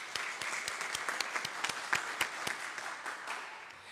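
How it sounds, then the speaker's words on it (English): A congregation at a Sunday worship service claps together in steady, moderately loud applause that holds for several seconds, scattered sharp individual claps standing out from the crowd. "So a round of applause again for Taha Hyatt."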